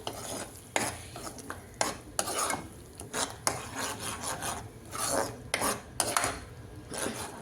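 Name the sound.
stirring curry paste in a pan for Afghani egg curry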